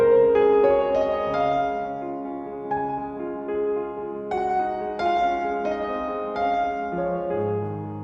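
A VSL Bösendorfer Imperial Synchron piano on its mighty preset, with room, mix, condenser and mid microphones blended, plays a full, resonant passage of sustained chords and melody lines that ring on at a steady loudness, with no voices.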